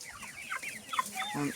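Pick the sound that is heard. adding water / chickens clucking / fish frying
chickens clucking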